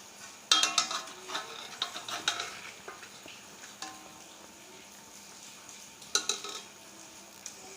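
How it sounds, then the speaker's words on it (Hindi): Rice is stirred together with spicy chicken in a pot for biryani. A spoon scrapes and clinks against the pot in a quick run of irregular strokes, then pauses and returns briefly near the end, close and fairly soft. "अब इसमें मिक्स करेंगे चावल"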